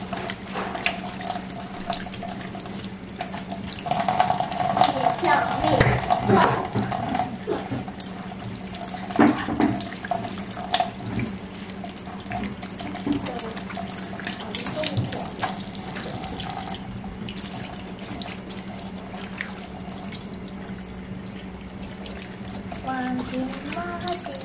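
Tap water runs steadily over papayas being washed in a sink, a continuous splashing hiss with shifting spatter as the fruit is turned under the stream.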